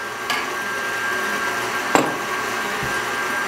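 A steady electric mixer whirs as it blends evaporated milk into pumpkin cheesecake batter, a constant mid-level drone with a few sharp knocks from the bowl breaking through.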